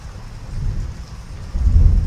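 Heavy rain pours steadily with deep rumbles of thunder rolling underneath, the low roar swelling louder toward the end, with no voices.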